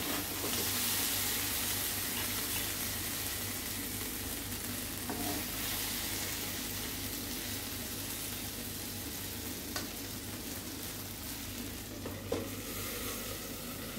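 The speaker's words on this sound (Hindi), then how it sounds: "ये मेरी भिंडी बनकर फ्राई हो गई है" Okra (bhindi) frying in a pan gives a steady, soft sizzle and crackle that holds at an even level throughout, with a few faint clicks scattered through it.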